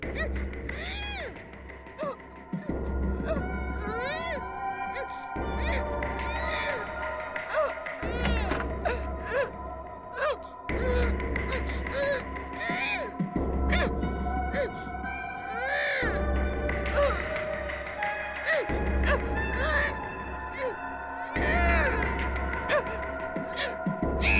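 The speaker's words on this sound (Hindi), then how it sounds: "रोने की आवाज इस कमरे से आ रही है।" Recorded crying played back from a tape recorder inside a room of a madrasa, a steady wailing, whimpering cry repeating in rhythmic bursts with hum and room noise underneath, continuous for the whole stretch.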